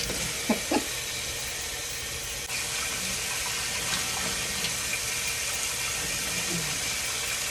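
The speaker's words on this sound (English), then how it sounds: "All right, so now I'm about ready to rinse this out." Tap water runs steadily while hair is rinsed out, a continuous broadband rush with a couple of brief splashy knocks early on and a slight shift in the flow partway through.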